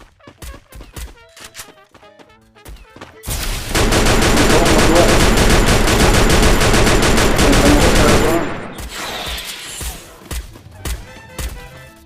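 Gunfire in a video game: scattered single shots, then a dense, loud burst of sustained automatic fire lasting several seconds, fading into more sporadic shots and thuds.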